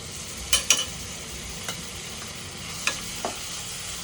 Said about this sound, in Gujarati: દહીં નાખ્યા પછી આપણે થોડું શેકાવા દીધું